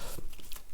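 A deck of cards is shuffled for a Gaia Project board game, giving a brief, close, dense papery riffle with no voices.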